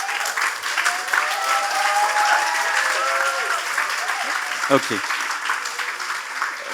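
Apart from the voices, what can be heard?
audience applause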